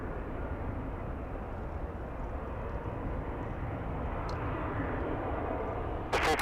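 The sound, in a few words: airplane at LAX airport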